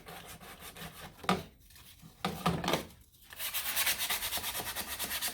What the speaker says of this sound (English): finish scuffing this up